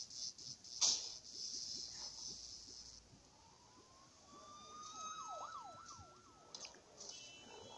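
A police car siren sounds in a video game, its wailing tone rising and then oscillating rapidly over a low engine-like rumble with scattered game noises, and no talk.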